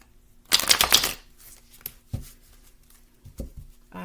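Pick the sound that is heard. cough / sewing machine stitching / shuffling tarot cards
shuffling tarot cards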